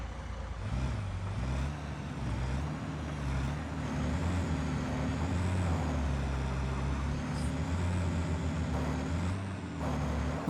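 A truck driving in the factory-building game Satisfactory, its engine a steady, loud low drone with shifting pitch that runs unbroken from start to finish.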